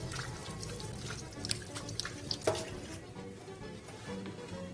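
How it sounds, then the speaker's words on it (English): Hands rinsed under a running kitchen tap while preparing a tiramisu cheesecake, a steady low wash of flowing water with scattered splashes and small clinks, fairly close, no voices. "Just going to quickly rinse my hands."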